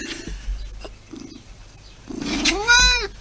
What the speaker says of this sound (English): Oh, here's a cat.